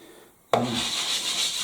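A scourer's abrasive yellow side rubbing across a greasy oven door starts abruptly after a brief near-silence and then continues as a loud, steady scrubbing hiss up close.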